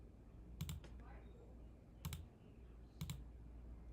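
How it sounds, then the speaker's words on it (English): Three quiet, separate double clicks from a mechanical computer mouse, spaced about a second apart, with faint background hiss. "So let me know if the mechanical mouse drives you crazy."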